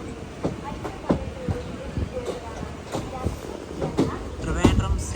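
A train pulling slowly into Thiruvananthapuram Central railway station, rhythmic wheel clacks over rail joints repeating at close range, with faint voices in the background.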